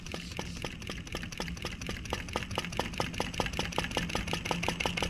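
A used Chinese flame licker vacuum engine runs steadily after a timing tweak, giving a fast, even train of regular pulses with a low mechanical hum, close and alone with no talk.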